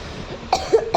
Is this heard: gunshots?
no